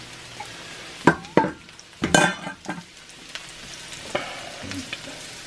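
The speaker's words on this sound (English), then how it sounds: "sauteing onions, and I'm going to put them right back." Onions sautéing in bacon grease in a cast iron pan, a soft crackle under several sharp clatters and scrapes of a utensil against the iron, close and with no talk.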